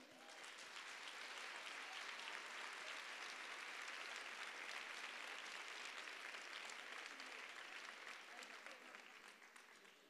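Sustained audience applause at a women's evening show, dense clapping spread across a full crowd, steady and loud throughout before tapering slightly at the end.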